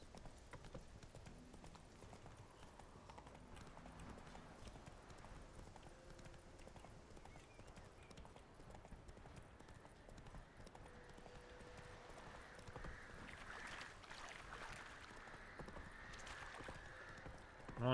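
A horse gallops in The Witcher 3 with a continuous, quick rhythmic clip-clop of hoofbeats. The hoofbeats are faint and steady throughout, with a brief whinny-like tone near the end.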